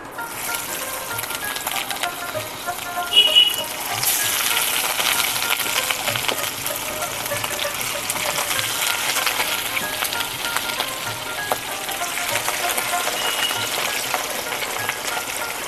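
Pieces of rohu fish fry lightly in hot oil with a steady, broad sizzle. It swells after a brief clink at about three seconds and then holds even and close with no voices.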